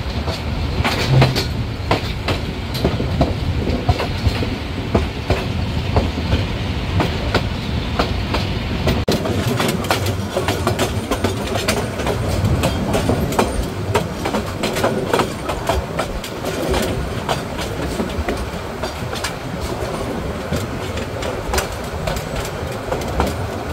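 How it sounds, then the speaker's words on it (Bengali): Titumir Express passenger train bound for Chilahati running on rails in Bangladesh, a steady loud rumble with rhythmic clickety-clack of wheels over rail joints throughout, heard up close. "সোজা চলে যাচ্ছে চিলাহাটি অভিমুখী তিতুমির এক্সপ্রেস"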